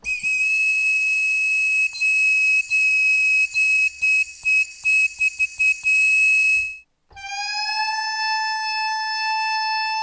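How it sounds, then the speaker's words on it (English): Sustained bright whistle tones from the Maleventum Pompeii sample library by Silence + Other Sounds play one after another, loud and pure with rich overtones and a long held phrase, then after a brief gap a steady lower whistle continues alone. "Whistle phrases."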